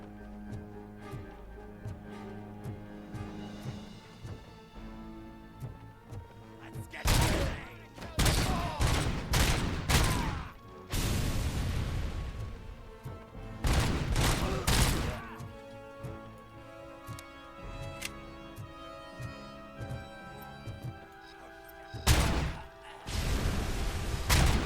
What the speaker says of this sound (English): This gun is so brutal.